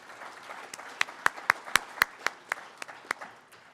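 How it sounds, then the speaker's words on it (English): Sparse clapping from a small audience welcoming a panel at a development industry dialogue in Surrey, with a few sharp, distinct claps standing out over a quiet room, fairly close. "A round of applause for our panel."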